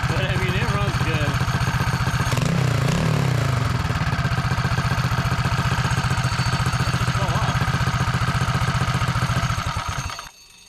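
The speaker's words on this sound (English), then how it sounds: "What you hear right now is the clutch." A 224cc Hemi small engine on a Mega Moto minibike runs steadily and loudly for about ten seconds with the clutch engaged and no chain, a dense, buzzing drone, then cuts off abruptly.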